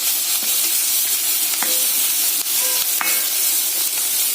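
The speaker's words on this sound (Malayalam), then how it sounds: "കടലക്കറിക്ക് കടുക് വറക്കുന്നു." Mustard seeds and onions fry loudly in a pan for chickpea curry, a dense, continuous hissing sizzle scattered with small pops and stirring clicks, close and unbroken throughout.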